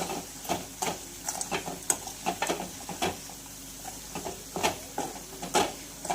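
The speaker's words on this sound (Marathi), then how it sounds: "तर 1 मिनिट आपण हे मसाले मीडियम गॅसवर परतून घेणार आहोत।" Spices sautéing on medium heat in a pan for aloo matar, with soft sizzling and a ladle stirring in irregular scrapes and taps close by.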